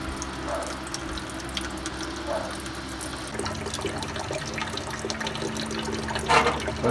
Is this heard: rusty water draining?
yes